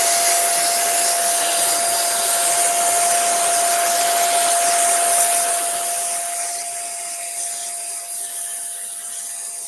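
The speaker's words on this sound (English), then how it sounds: "I like to use a vacuum." A vacuum cleaner runs steadily while cleaning the top of a machine near its overhead cam, giving a loud, close, continuous whooshing roar with a thin steady whine; it eases slightly quieter in the last few seconds.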